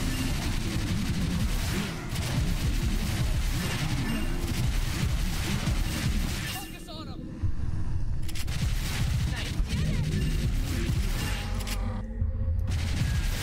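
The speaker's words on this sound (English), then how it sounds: "I've picked the two laser weapons and they're both shit" Dense, continuous laser weapon fire from the arcade shooter House of the Dead Scarlet Dawn, loud and relentless with rumbling game noise underneath, pausing briefly twice before resuming.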